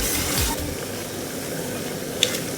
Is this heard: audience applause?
no